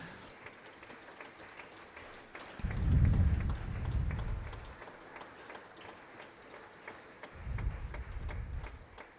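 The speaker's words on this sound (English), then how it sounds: "So first, a big round of applause to our external legal advisors, Andrea Kirsch and Christoph Kaiser." Audience applause at an award ceremony for an innovation challenge, starting as a light patter, swelling into a fuller burst of clapping, fading, then rising again in a second wave near the end.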